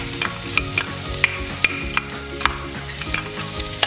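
Garlic sautés in a little oil for a pork rib sauce, a bright close sizzle punctuated by regular sharp spatula clacks against the pan, over a steady low tonal backing.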